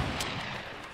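Rapid gunfire blasts from a Fortnite battle royale match, a dense continuous burst of shots with sharp peaks, heard alone with no talking.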